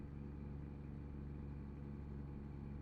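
A truck engine labours up a hill in American Truck Simulator, a steady, low droning rumble with constant harmonic hum, moderately quiet and unbroken throughout.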